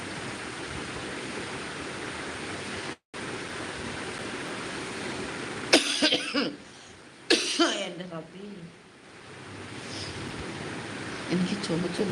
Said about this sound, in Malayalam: ഒരു അപാരം ചുമയായിപ്പോയി